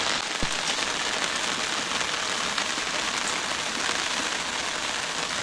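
Heavy rain pours steadily outdoors, a dense, even hiss of drops striking surfaces close by, loud and unbroken throughout, with one sharp tap near the start.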